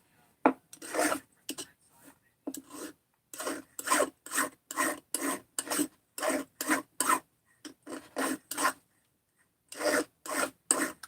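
A flat file rasps burrs off a metal chainsaw part in short, even strokes, close and alone, with brief pauses between bursts of filing.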